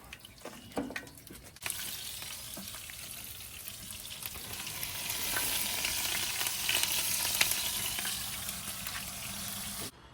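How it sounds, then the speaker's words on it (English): Breaded fish frying in hot oil, a steady dense sizzle that starts abruptly after a brief quiet and holds strong and close, with faint crackles and pops throughout. "we got them all fried up here"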